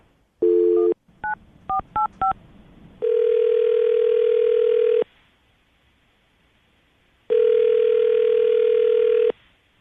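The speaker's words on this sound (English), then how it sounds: "I'm going to call her right now, get her on the phone." A short tone burst, then a quick series of keypad beeps, followed by two long, steady ringback tones with silence between them.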